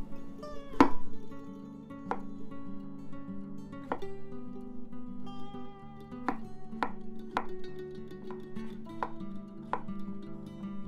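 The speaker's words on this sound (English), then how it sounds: "I'm chopping 2 medium turnips that have been peeled." A knife chops peeled turnips on a cutting board in irregular single strokes, about a dozen sharp thuds spaced a second or so apart, close and clear.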